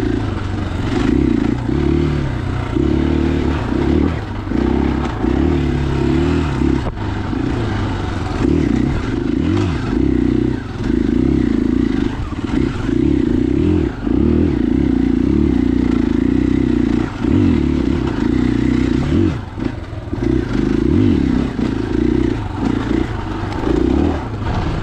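A 2021 KTM 500 EXC-F four-stroke dirt bike rides fresh singletrack at an OHV area, its engine droning loudly and constantly with throttle swells, plus clatter and scraping from the trail throughout.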